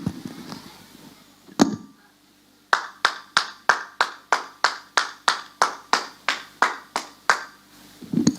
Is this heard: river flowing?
no